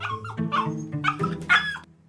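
A dog whimpers and yips in a run of short, whiny, high-pitched cries, close and fairly loud, while a chocolate-covered treat is offered to it.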